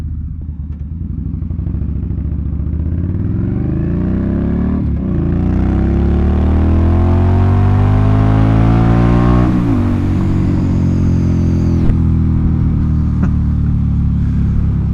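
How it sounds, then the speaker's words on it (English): Cars and a motorcycle pass on a road nearby, a steady loud engine roar that rises and sweeps as vehicles approach and go by, with revving tones and no talk over it. "Oh God, there's some traffic here."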